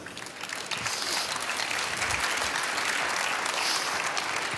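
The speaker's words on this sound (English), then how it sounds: "And an applause for you." Applause from an audience at the Formnext Industry Stage, a steady dense wash of many hands clapping that swells after a softer start and holds loud and even throughout, with no voices over it.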